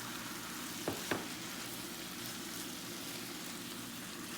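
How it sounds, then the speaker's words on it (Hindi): Onions with garlic paste sautéing gently in a pan for a leftover rice chicken lasagne, a steady soft sizzle throughout with a couple of brief stirring knocks early on, no talking. "इसको आपने ज़्यादा ब्राउन नहीं करना, सिर्फ हल्का सा सॉटे करना है कि आपकी जो प्याज है उसका कच्चापन ख़त्म हो जाए।"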